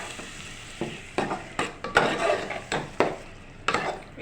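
Tomato paste sizzles in hot oil as a spoon stirs it, with a close run of repeated scraping strokes over a soft frying hiss and no talking.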